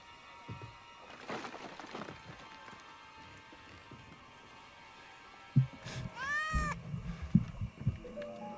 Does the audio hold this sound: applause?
no